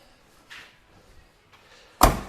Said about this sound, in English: door shuts, nice gaps